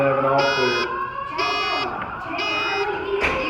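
A school fire alarm sounds a loud, repeated electronic beep, three evenly spaced half-second tones, while people talk and move around nearby.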